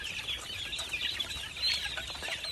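A flock of chickens on a farm eats wet feed with probiotics, giving a dense, continuous chorus of soft clucks and murmurs, pecking and scratching from a crowd of birds nearby.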